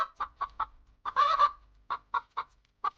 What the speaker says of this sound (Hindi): मुर्गी भी रोज दड़बे से निकलकर खेलती